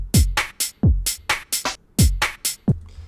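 A programmed UK garage drum pattern: punchy kicks with pitch-dropping thumps and crisp snare hits in a syncopated, shuffling groove, loud and dry, with no voices.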